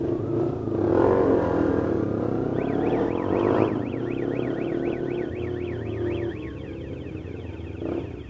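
A motorcycle alarm wails with a rapid rising-and-falling siren tone over the rumble of an engine revving nearby, loud and continuous.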